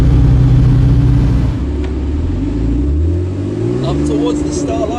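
A W Motors Fenyr SuperSport fitted with a Kline Innovation Valvetronic exhaust idles at low RPM with a deep, steady, loud rumble that shifts slightly in pitch, while a person talks over it.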